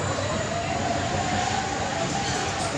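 Roller coaster train at Heide Park rolling along its track, a steady rumbling roar with a faint metallic squeal, heard from a moderate distance under crowd noise.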